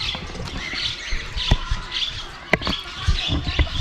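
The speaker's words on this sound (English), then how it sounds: "There's a nice cockatoo." Harsh squawks from birds, likely a caged cockatoo, at a deer park mini zoo in Malda, sharp calls repeating irregularly over a noisy outdoor background.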